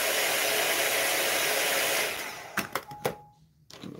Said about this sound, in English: I might turn my little travel blow dryer on it under the table.